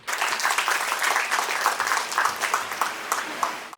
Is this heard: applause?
yes